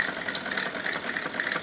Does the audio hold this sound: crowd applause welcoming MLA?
no